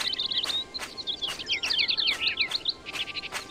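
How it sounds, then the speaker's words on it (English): Video game birds chirp and trill in quick, overlapping high-pitched bursts, fairly close, over a soft steady background hum, in the adventure game Syberia. "You hear the birds chirping"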